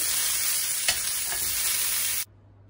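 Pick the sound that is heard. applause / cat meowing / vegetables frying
vegetables frying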